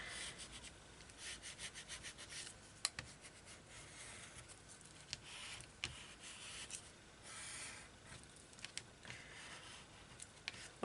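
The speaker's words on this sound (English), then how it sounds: "I'm going to get my bone folder to just give them a good burnishing down." A bone folder is rubbed firmly over glued paper ephemera in a journal, giving soft, steady scraping strokes with occasional small taps, close by and quiet, with no voices.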